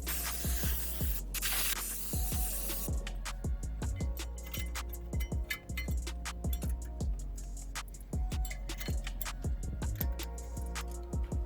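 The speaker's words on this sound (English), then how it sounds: "clean with the brake part cleaner again." Brake parts cleaner sprayed onto rear brake hardware of a 2012-18 Toyota RAV4, a hissing aerosol burst at the start, followed by a run of light metallic clicks and taps close by.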